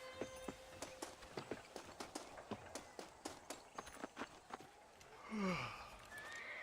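A horse in the Red Dead Redemption video game gallops with a steady run of clip-clopping hooves, then gives a loud whinny near the end, no voices.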